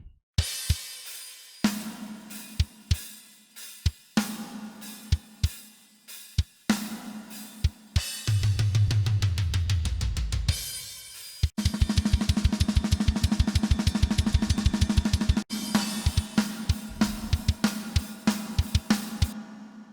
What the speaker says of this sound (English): So the drums is sounding like this now.